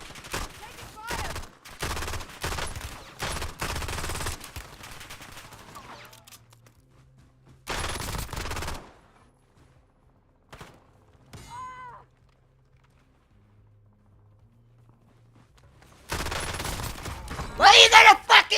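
Video game gunfire comes in heavy bursts of rapid shots and fusillades, loud and close, separated by quiet gaps, with a voice speaking between volleys.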